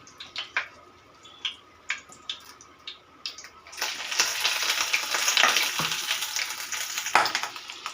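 Parshe fish pieces are laid one by one into a pan for paturi, setting off a few scattered clicks and splutters before a broad crackling sizzle builds and holds steady, fairly close.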